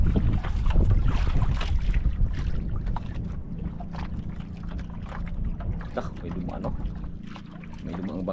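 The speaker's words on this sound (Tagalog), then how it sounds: "may dumaang bangka." Small boat passing on open water in the Philippines, a steady rumbling wash with wind buffeting the microphone throughout, loudest early then easing off, with voices talking over it.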